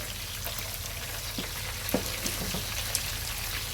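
Chicken frying in a pan gives a dense, steady sizzle close by, with scattered small pops and crackles throughout and no one speaking.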